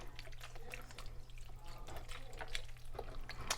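Beef broth is poured into a pot around the sides of a pot roast, a soft, close trickle and splash of liquid with a few drips.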